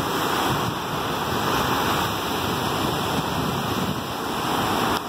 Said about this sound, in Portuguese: As ondas tão daquele jeito.